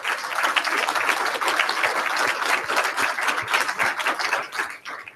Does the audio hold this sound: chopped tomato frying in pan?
no